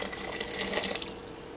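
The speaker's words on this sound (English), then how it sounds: "You come over here and you stir in boiling water." Boiling water is poured into cake batter in a faint, steady splashing trickle that rises briefly before easing off, with no voices.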